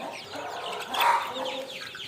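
Chicken chicks eating papaya cluck and chirp together in a busy, close-up chorus, with a slightly louder burst around the middle.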